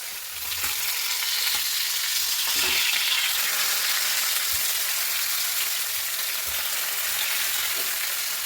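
Pomfret fish fries in a pan of oil, making a continuous, fairly close crackling sizzle with a few soft bumps and no talking.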